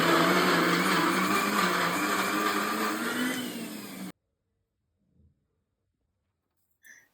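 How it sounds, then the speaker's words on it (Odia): Kitchen mixer grinder runs loud and steady while grinding soaked soya chunks, then cuts off abruptly around four seconds in, leaving near silence with a couple of faint knocks. "ତାପରେ ସୋୟାବିନ୍‌କୁ ମିକ୍ସିରେ ପକେଇ ଭଲ ଭାବରେ ଗ୍ରାଇଣ୍ଡ କରିନେବା।"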